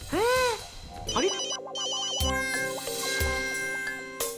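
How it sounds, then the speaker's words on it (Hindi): A mobile phone ringtone plays loudly in a steady repeating melodic pattern, preceded by a brief high squeal, with the ringing dominating over the room sound. "फोन बज रहा तेरा फोन बज रहा है"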